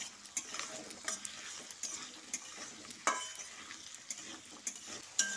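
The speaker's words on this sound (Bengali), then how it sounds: "এবার এর মধ্যে কুচনো আলুটা দিয়ে দিচ্ছি। আলুটা দিয়ে এর সঙ্গে ভালো করে মিশিয়ে নিচ্ছি।" A spoon stirs chopped potato into sizzling onions in a frying pan for a cauliflower and potato dish, with soft scraping and clinks against the pan over a constant close frying hiss.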